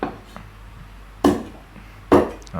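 A knife chops down hard through eel on a cutting board twice, sharp thuds about a second apart, with a lighter tap at the end.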